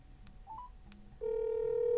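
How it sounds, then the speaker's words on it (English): A Google Pixel 9 Pro XL rings with an incoming call on speakerphone: a few short electronic blips, then a steady loud ringtone tone that holds to the end. "You see, I'm getting a phone call."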